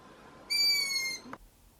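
A loud, sustained high-pitched begging call with a thin whistling tone, held for under a second, then a brief soft rustle.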